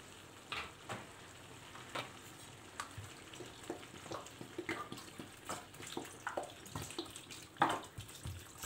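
Water runs steadily from a tap or is poured into a cooking pot holding green beans with sugar, salt and lemon, a soft continuous splashing with a few clinks of utensils, fairly quiet with no talking.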